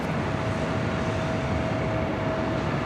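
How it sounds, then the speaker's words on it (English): Delta Boeing 737-900ER rolling down runway 24 left at LAX on takeoff, a steady broadband engine roar with a faint whine, continuous and fairly loud with no talk. "This Delta Airlines Flight 1393 heading to Seattle in a 737-900ER, now rolling down 24 left"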